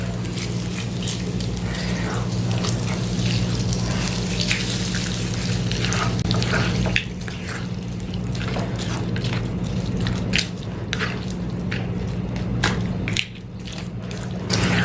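Kannur style koottu curry being stirred and mixed in a pan, with a steady bubbling sizzle under repeated scraping and clacking of a spoon. A constant low hum runs beneath it, the sound is close and sustained, and there is no talk.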